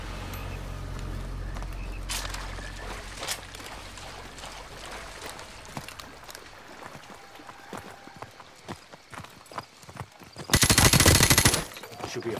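Scattered gunshots from Call of Duty: Modern Warfare Remastered, sporadic sharp cracks of varying loudness over a quiet ambient bed, ending in a dense, loud burst of sustained automatic fire before fading.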